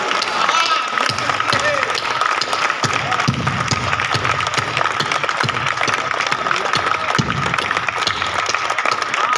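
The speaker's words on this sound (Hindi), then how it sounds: "इससे ज्यादा ताली बजाओगे तो पढ़ूंगा।" Audience applause at a Hindi kavi sammelan poetry recital, a dense sustained wash of clapping from a large crowd running throughout, steady and loud, with occasional cheers mixed in.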